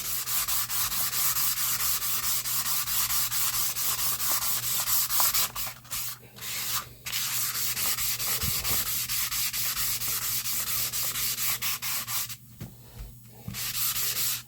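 Naniwa Snow White 8K sharpening stone, 8x3 inches, being convexed to a 6.5 foot wheel curve, giving a steady continuous rubbing, sanding scrape with a few brief pauses, close and alone.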